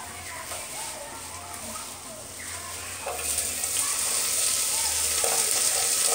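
Onion sizzling and frying in a pan for homemade chicken soup, a steady close hiss that grows louder partway through, with a voice speaking over it.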